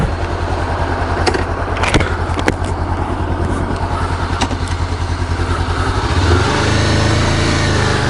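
Honda CB500X motorcycle engine on a test ride, a loud, steady, close-miked running drone with a few sharp clicks and a rise in revs near the end.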